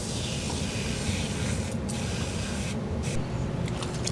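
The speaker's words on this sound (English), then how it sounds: "I'm gonna go ahead and spray this one too." Aerosol spray can hissing onto corroded golf cart battery wires on a Club Car DS, a steady, close spray running continuously with a couple of brief breaks near the end.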